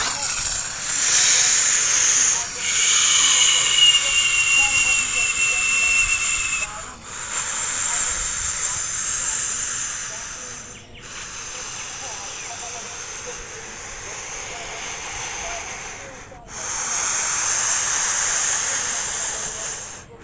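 A toy Airbus airplane gives off a loud, steady whirring hiss with a high whine, surging and dropping in several bursts as it is moved about, heard close and alone.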